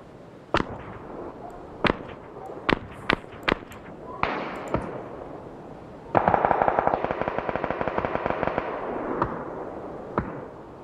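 Gunfire from the video game PUBG Mobile rings out in sharp single shots, then a rapid automatic burst, then a few more isolated cracks, loud and close.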